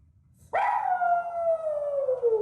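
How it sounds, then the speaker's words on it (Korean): A dog left alone at home lets out a single loud, close howl that starts abruptly and holds a long, slowly falling wail, with no voices alongside. "급기야 하울링까지 하는데요."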